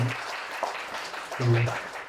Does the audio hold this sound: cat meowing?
no